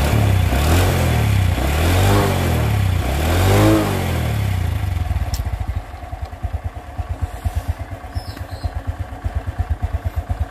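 Motorcycle engine with lost compression from oil mixed with water, revved hard a few times in swelling vroom bursts, then settling into a loping, uneven idle with distinct rapid chugging pulses, close and loud.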